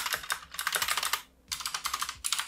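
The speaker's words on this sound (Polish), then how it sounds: "No i widzicie w tej chwili także niebieskie przełączniki Cherry MX." Fast, clicky typing on an XPG Summoner mechanical keyboard with Cherry MX blue switches, a dense close-up patter of keystrokes with one brief pause midway.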